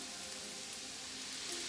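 Soy sauce sizzles in a hot pan of stir-fried vegetables, a faint, even crackle and hiss that carries on without a break.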